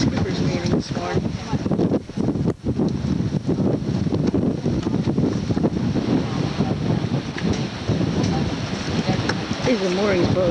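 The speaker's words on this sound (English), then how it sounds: "See, we're in the middle of a cyclone." Strong cyclone wind roars and buffets the microphone continuously among moored sailboats, with faint voices mixed in underneath the gusts.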